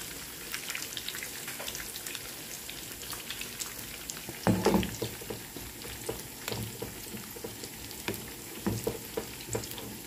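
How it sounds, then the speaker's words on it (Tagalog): Pork fries, sizzling and crackling in a hot pan close by, quiet and continuous, with occasional louder pops and a clink of stirring. "Prito lang natin."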